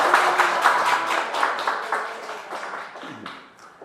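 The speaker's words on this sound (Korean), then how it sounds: "우리 큰 박수 보내드릴까요?" Congregation applauding in a church during a sermon, a steady burst of many hands clapping that gradually fades toward the end, with no talk over it.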